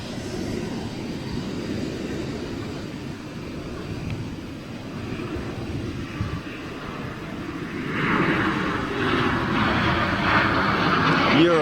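A Eurofighter jet at RAF Coningsby roars in the distance as a broad engine rumble that swells louder in the last few seconds, mixed with wind buffeting and voices talking nearby.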